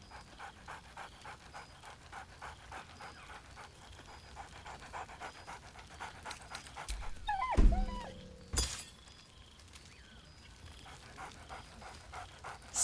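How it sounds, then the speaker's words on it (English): A dog in the Baldur's Gate 3 video game pants rhythmically throughout, with a louder burst of excited yips and barks near the middle before settling back to steady panting. "Scratch barks merrily in something like agreement."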